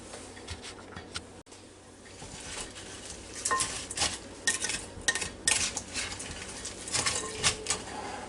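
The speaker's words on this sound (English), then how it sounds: "Now we're going to try to mix all this up real good." Ingredients for a cheesy vegetable casserole stirred in a Ninja Foodi pot, with soft scraping and repeated light clinks of a utensil against the pot, close and fairly quiet; no talking.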